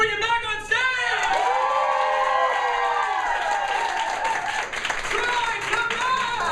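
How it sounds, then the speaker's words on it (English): Audience at a live stage show breaks into dense, sustained clapping with whoops and cheering throughout, loud and close, over a hall's crowd noise. "huge round of applause"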